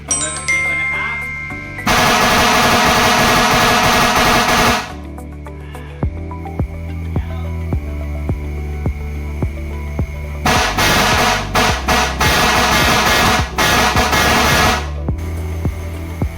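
A loud, harsh aftermarket single-solenoid air horn on a long-nose Toyota Commuter van blasts twice in long bursts, separated by a stretch of idle hum and clicking.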